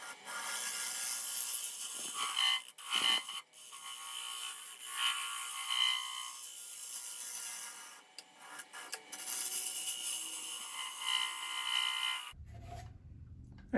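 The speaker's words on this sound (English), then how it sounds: "I may want to do this with a scraper. I'm just going to blend these edges in here." A woodturning scraper blends the edges of a very thin bowl on the lathe, giving a steady raspy scraping hiss with brief pauses, close and fairly loud, until it stops abruptly near the end.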